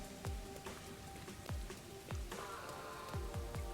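Steady rain patters on surfaces in a rainy Kanai Ward street of a video game, with scattered heavier drops landing on top at an even, moderate loudness.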